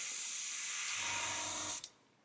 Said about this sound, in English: So you try and spray it on plastic, it doesn't like it.